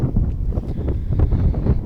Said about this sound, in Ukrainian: На хребті трохи вітряно, тому не знаю, як буде чути.